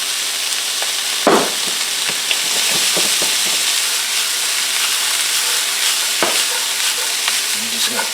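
Cut vegetables frying in oil in a pan, a steady close sizzle with scattered clatters and scrapes as they are tossed and stirred, no one speaking.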